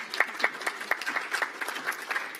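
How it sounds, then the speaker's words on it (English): Applause from attendees at a political party executive committee meeting, a modest, fairly sparse round of distinct hand claps heard alone at moderate volume. "Yes, she deserves some applause."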